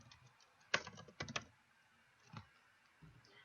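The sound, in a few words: typing on a computer keyboard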